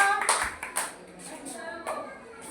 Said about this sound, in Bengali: হাততালি হবে ওর জন্য